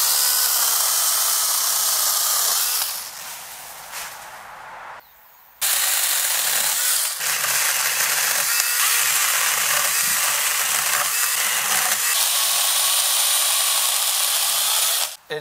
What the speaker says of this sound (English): Just grab your baby chainsaw and go get cutting.